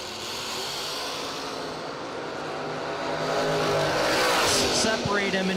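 Drag racing cars at a bracket race, a Roots-blown Camaro Roadster and a square-nose pickup, roar loudly and build in intensity, with a faint chirp near the end and an announcer's voice running underneath.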